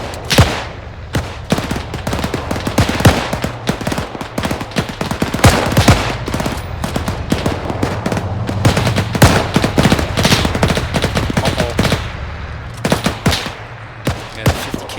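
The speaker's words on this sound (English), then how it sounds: "That was a machine gunner." Sustained machine gun fire in the IFA3 war mod, dense rapid bursts with sharp individual reports running almost continuously, loud and close.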